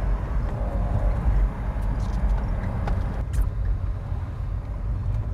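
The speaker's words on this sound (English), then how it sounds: "Of course, you never get bored of that inline six sound." A BMW E30 Touring inline-six engine with induction noise produces a deep, steady engine drone, loud and close, with a few faint higher clicks over it.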